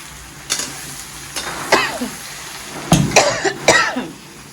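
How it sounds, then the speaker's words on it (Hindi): Several sharp coughs come in short bursts, a few close together, over a soft background sizzle of frying food in a kitchen. "मुझे खांसी बहुत आ रही है"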